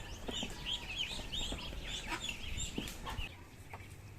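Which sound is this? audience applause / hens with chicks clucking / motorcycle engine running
hens with chicks clucking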